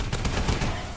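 AE4 WidowMaker fire on the Atlas Gorge map of a shooter video game: a quick burst of several loud, close gunshots in a fast, uneven rhythm that fills the whole moment.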